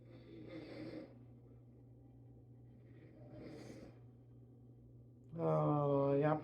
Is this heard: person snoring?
yes